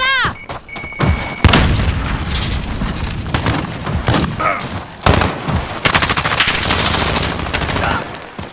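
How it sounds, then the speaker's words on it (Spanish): Grenade blasts and heavy gunfire from Call of Duty Modern Warfare multiplayer: dense machine-gun bursts and booming explosions roll continuously, loud and close, with shouted voices occasionally cutting through. "¡Granada va!"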